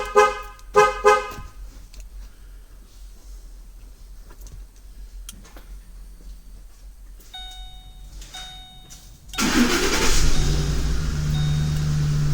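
A 2007-2014 Ford Expedition, set off by a remote start, gives a few horn-like chirps and soft ticking clicks, then the engine turns over and settles into a loud, steady idle.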